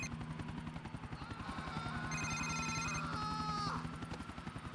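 A mobile phone rings in GTA IV over the steady thumping of a helicopter rotor, the ringing chirping in short repeated bursts for about two seconds before cutting off, fairly quiet overall.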